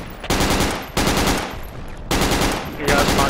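Sustained suppressive machine-gun fire from the player's weapon in the Project Reality jungle shooter, loud and close, in three long bursts separated by brief pauses.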